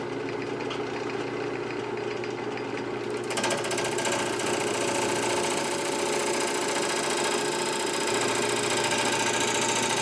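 A wood lathe with a slipping belt spins a maple bowl blank at about 600 RPM, giving a loud, steady mechanical whir and drone that rises and brightens a few seconds in, then holds constant.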